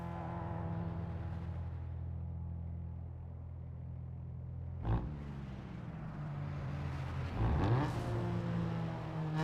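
Car engine in the racing game Need for Speed: Underground 2 holding a steady loud drone, with two short sharp revs rising and falling partway through.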